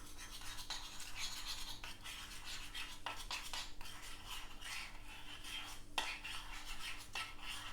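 Honey and brown sugar glaze being stirred in a bowl, with a steady scraping and clinking of a utensil against the dish and a few sharper taps along the way.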